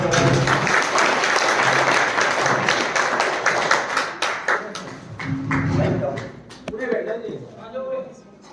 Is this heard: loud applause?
yes